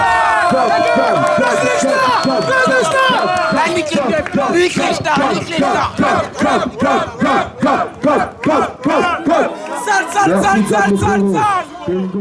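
A lively crowd shouts and cheers, with a burst of rhythmic clapping joining the voices midway before the cheering swells again.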